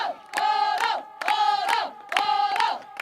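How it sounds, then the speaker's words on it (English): Spectators at the 2022 Men's Over-55 Hockey World Cup in Cape Town, watching the Netherlands against France, roar in three loud, tonal, chant-like bursts spaced about a second apart after the Dutch goal. "As you can hear, the crowd loves that one."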